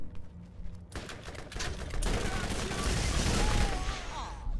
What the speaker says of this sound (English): Shooting barrels out here.